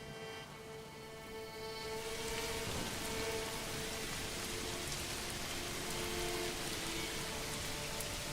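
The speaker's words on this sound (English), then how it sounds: "We'll wait for it to stop raining." Rainfall in the medieval city-building game Manor Lords, a steady hiss of rain that swells after the first two seconds and then holds, with faint tonal game sounds underneath and no speech.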